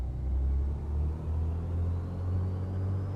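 A BlackSquare B58 twin-engine aircraft in a flight simulator increases power, producing a steady low engine drone and rumble that swells slightly. The sound is continuous and fairly loud, with no talking.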